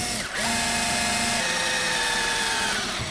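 A power drill whirs steadily and loudly at close range inside a shipping container, its pitch shifting slightly as it bores through wood.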